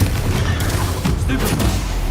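In the Hogwarts Legacy video game, a Confringo spell bursts into a loud, dense explosion, with booming thuds and crackling blasts piling up over a short stretch of spell effects.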